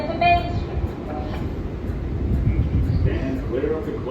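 An R188 subway train on the 7 line at Court Square rumbles steadily close by, a low continuous rolling roar with faint squeals, under a station announcement voice.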